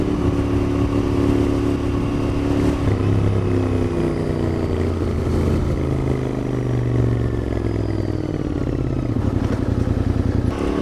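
A Royal Enfield Continental GT 650 twin-cylinder motorcycle rumbles along on a ride, its engine note rising and falling with throttle and gear changes, loud and close with some mechanical clatter and wind, no voices.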